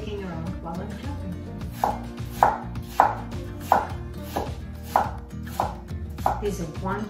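A knife chops apples steadily on a cutting board, about one firm stroke every half second, close and clear with no talking.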